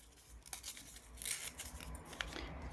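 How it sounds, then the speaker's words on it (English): Scissors cut a single sheet of paper up close with a few quiet snips and a soft rustle of the paper, with no voices. "you can just cut one piece of paper"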